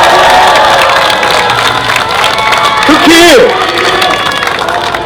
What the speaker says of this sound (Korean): 여러분 송영길 후보님에게 크게 박수 보내주시기 바라겠습니다